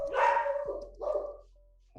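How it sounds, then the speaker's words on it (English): Dogs bark in two short bursts, a loud yappy volley followed by a second shorter one, somewhat distant and heard alone. "oh, the dogs are getting told off."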